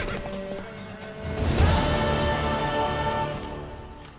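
A horse in the video game The Witcher 3 clops its hooves and lets out a whinny, loud and close, with no one talking over it.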